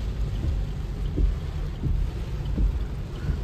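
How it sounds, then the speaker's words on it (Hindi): Heavy monsoon rain heard from inside a car driving on the Mumbai Pune Expressway toward Lonavala, a constant dense wash of noise with a few soft low thumps, no talking. "मौसम देखो, मतलब कितनी ज्यादा तेज बारिश हो रही है"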